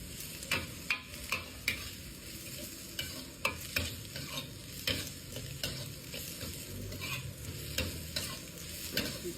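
Oil sizzles steadily as shallots fry, with a scattering of sharp ticks and pops and stirring scrapes throughout, close by.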